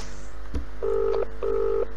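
A phone ringback tone sounds twice as even, steady beeps, each lasting about half a second, after a brief click, with a low background hum and no talking.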